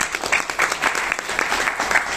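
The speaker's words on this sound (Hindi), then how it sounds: "एक बार जबरदस्त ताली बजा दीजिए" Audience applause at a Modicare business gathering, a dense steady patter of many hands clapping that holds at a fairly even level for its whole length.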